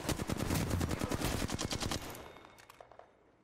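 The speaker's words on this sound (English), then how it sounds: "Enemies are shooting at me." Enemy gunfire in the video game Apex Legends, rapid automatic bursts of close, loud shots that rattle in a fast rhythm, then break into a few scattered single shots as the firing fades away.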